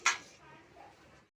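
A lid is set onto a cooking pot of chicken in water in a home kitchen, making a single quick metallic clink followed by a faint, quiet tail.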